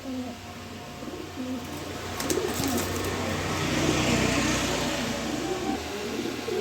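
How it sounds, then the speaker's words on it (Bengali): Racing pigeons cooing in a loft, soft repeated low coos nearby, with a car engine and other background noise rising behind them. "এখানে এক পেয়ার কবুতর আছে দেখেন"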